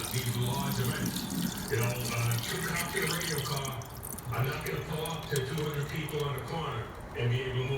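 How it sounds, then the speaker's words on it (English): Water accumulated under a plate drains out while hot peppers are being made, a steady trickling, splashing flow with drips, moderately close, alongside muffled voices talking. "Now we're draining the water."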